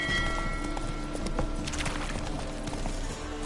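Roach, a horse in The Witcher 3 video game, trots with steady clip-clop hoofbeats over a continuous dense game soundscape, with faint talk in the background.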